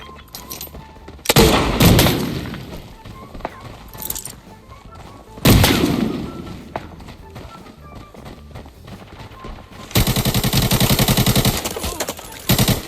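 An AK-74N in the game Arena Breakout fires in several loud close automatic bursts separated by quieter gaps, the last burst a fast steady rattle.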